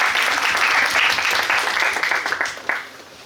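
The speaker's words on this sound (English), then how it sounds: "Let's give a huge round of applause for them." A round of enthusiastic applause from an ideathon audience, loud at first and then tapering off as the clapping thins out.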